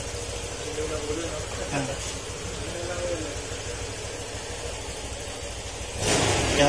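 A Honda Click scooter engine idles steadily after its throttle body was cleaned, a continuous low hum running under a man's speech, with a louder surge in the final moment.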